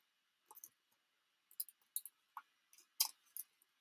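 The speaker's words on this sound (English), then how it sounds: "It's notoriously hard to cut through acetate." Scissors snipping through acetate sheet in a craft and stamping setting, a series of short crisp clicky cuts in clusters, close and fairly quiet, with no talking.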